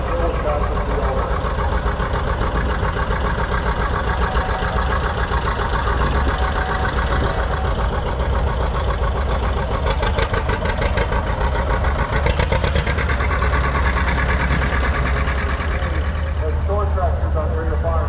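A 1957 John Deere Model 820 diesel tractor runs at a threshing-show parade with a steady, low engine rumble. Crowd and outdoor noise blend in, with a few louder clattering bursts partway through.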